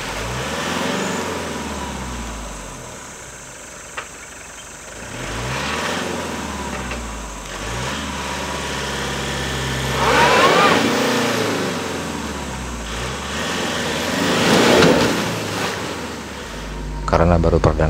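A military vehicle fords a shallow river on a rural route, its engine droning and surging while water splashes and churns around it in swelling waves. Loud and close throughout, with brief louder bursts as it pushes through.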